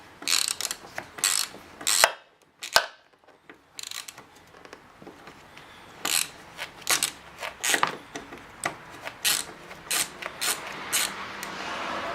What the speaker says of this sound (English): this particular screw here is a 10mm. And we're going to remove this on both sides.